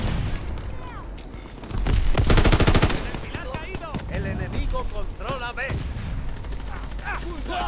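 A fixed machine-gun turret in Call of Duty WWII rattles off a loud sustained burst amid scattered multiplayer gunfire, with players chatting throughout.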